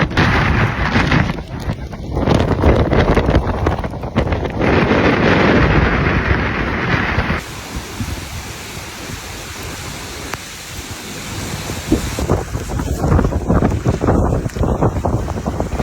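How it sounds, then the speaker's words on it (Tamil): Strong cyclone wind buffets the microphone at Pamban bridge, a loud continuous roar with heavy gusting that eases midway and then surges back, alone with no voices. "காத்து வந்து பாம்பன் பாலத்தில் அடிச்சு கடுமையான காத்து அடிச்சுக்கிட்டு போகுது."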